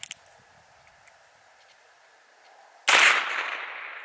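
A single sharp report from a .22LR CCI Stinger round fired from a 5-inch barrel revolver, loud and close, with a short echoing tail after a few seconds of quiet.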